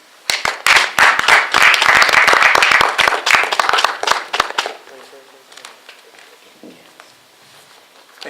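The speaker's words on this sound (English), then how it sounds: "Please give a big round of applause" Audience at a poetry reading clapping loudly for the next poet, a dense burst of many hands that thins to scattered claps and fades after about four seconds, leaving a quiet room.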